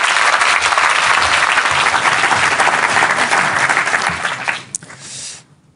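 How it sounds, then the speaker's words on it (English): Dense, loud audience applause greets the Dutch Minister of Defense at a formal NATO gathering, steady for about four seconds before tapering off into quiet. "Please give him a warm applause."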